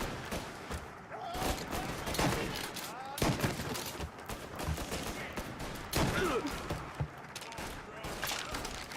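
Gunfire in the video game Mafia Definitive Edition, a dense run of rapid shots and heavy impacts through a busy in-game fight. A player talks throughout over the shooting.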